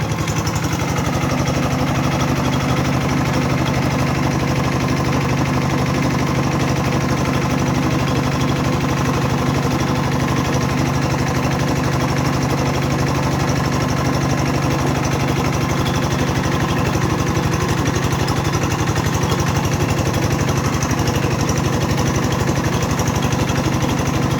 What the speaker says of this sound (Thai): เดี๋ยวเร่งเครื่องสักหน่อยครับ